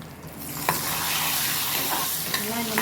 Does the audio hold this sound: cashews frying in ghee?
yes